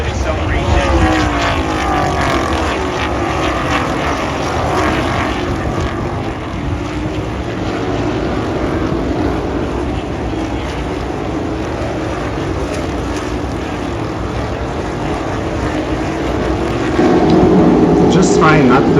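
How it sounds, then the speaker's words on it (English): Race cars accelerating through the gears past turn one at Circuit of the Americas, a loud continuous engine roar with Doppler-like sweeps, heavy wind buffeting on the microphone, and a louder swell near the end. "Just trying not to speak over the cars, and just let you enjoy the sounds over there."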